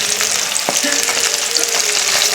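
Onion stalks and potatoes fry loudly in a pan, a dense continuous sizzle close up with sharp crackles and a few stirring scrapes.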